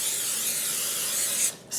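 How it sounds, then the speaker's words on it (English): Non-stick cooking spray hissing steadily from a can onto a frying pan, a continuous close aerosol burst that breaks off briefly before resuming. "Spraying it with a non-stick cooking spray."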